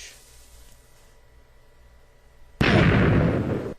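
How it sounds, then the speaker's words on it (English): In Minecraft, TNT explodes in water with one sudden loud, broad blast that cuts in after a quiet stretch and rumbles on, slowly fading. "when TNT falls in water, the explosion happens, you still take damage"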